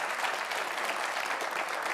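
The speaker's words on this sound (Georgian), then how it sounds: "აპლოდისმენტები" A studio audience at a Georgian quiz show claps in a continuous, even wash of applause, moderately loud and alone.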